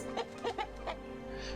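Chickens cluck in a few short bursts in the Orwell's Animal Farm video game, heard close over a low steady background hum.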